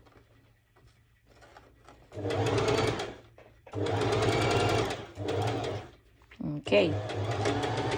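A sewing machine stitches through several fabric layers of a cut-out cover-up dress in close, loud bursts of rapid needle whirring separated by pauses, with a brief spoken word between runs.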